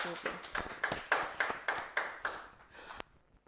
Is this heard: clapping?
yes